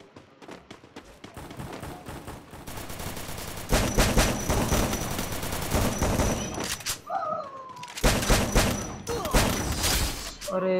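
Dense bursts of rapid automatic gunfire from the Free Fire Max mobile battle royale game, loud and sustained, with brief pauses and shots resuming, under faint in-game effects.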